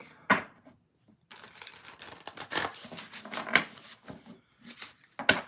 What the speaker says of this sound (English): Final deck to shuffle.